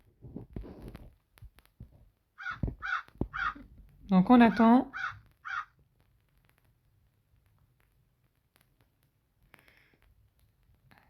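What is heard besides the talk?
crow cawing in the video game Roblox Brookhaven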